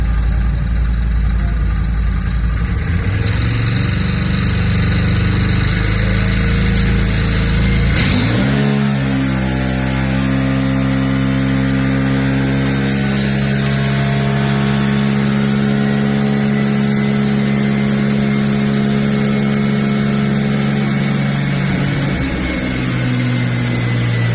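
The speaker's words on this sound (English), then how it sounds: "Just wide open throttle pulls," A CFMOTO Z-Force 950 Sport UTV with a big bore build and a clutch kit makes a wide open throttle pull, loud and close, the engine roaring and climbing steadily in pitch with no talk.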